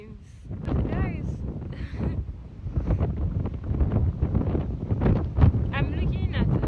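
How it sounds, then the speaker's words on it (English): Gusty wind buffets the microphone in a steady low rumble across open, dry land in Cameroon, with occasional talk and movement underneath. "Today is windy."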